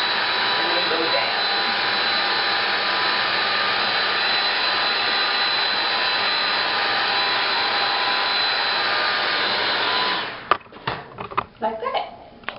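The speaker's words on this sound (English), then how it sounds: "you want to hold your blow dryer up" A blow dryer drying natural hair blows with a loud, steady whooshing roar up close for about ten seconds, then switches off, leaving a few soft knocks and handling noises.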